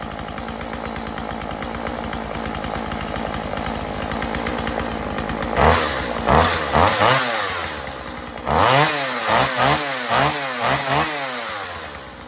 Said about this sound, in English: We got the old Husqvarna 136 up and running.